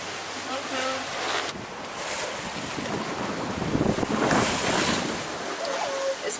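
A sailboat beats into roughly 20-knot wind and swell on rough seas toward the Bahamas: gusting wind roars across the microphone while waves wash and slap against the hull, swelling louder midway.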